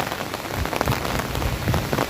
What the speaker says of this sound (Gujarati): વરસાદ એક ધારો ચાલુ છે